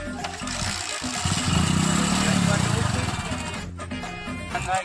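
Motorcycle engine running close by as the clutch is worked, a buzzing putter that swells into a louder throbbing rev then eases off, with voices talking over it.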